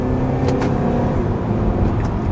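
Steady interior road and engine noise from a 2007 Acura TSX automatic as it drives and brakes to slow down, a constant close rumble with faint brief squeaks and no talking.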